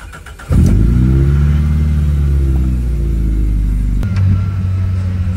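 The 4AGE engine of a 2000 Toyota BZR Levin fires up on a road test and holds a loud, steady idle close by, with a brief rise in revs partway through.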